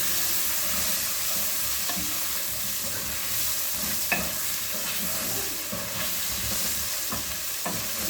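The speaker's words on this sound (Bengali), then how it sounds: "দিয়ে আমি এটা ভালোভাবে নাড়িয়ে নেব।" Fried potatoes seasoned with salt and turmeric are stirred in a pan, with a continuous close sizzle and occasional soft spatula scrapes throughout, and no voices.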